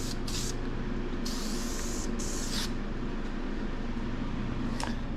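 Aerosol spray painting a '55 Chevy engine in Chevy orange, close hissing bursts of spray, a few short and one longer, over a steady background hum.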